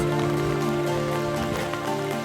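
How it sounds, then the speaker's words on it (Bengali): Rain patters steadily on surfaces nearby at Lake Constance, a constant drumming wash with a faint steady hum underneath and no voices. "বৃষ্টি পড়ছে"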